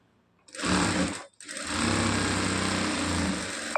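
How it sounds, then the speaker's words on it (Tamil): Sewing machine stitching together the side seams of a three-quarter-sleeve blouse, a short close burst of rapid stitching, a brief pause, then a longer steady run. "ஸ்லீவு ஃப்ரெண்டு பேக்கு எல்லாம் ஒட்டுக்கா ஜாயின் பண்ணி சைடு அடிச்சுட்டு இருக்கிறோம்"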